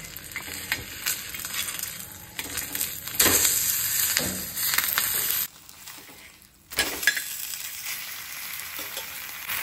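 Mackerel frying in a banana leaf on a pan over a low gas flame, Goan style, gives a steady close sizzle broken by scraping and stirring as the fish is turned.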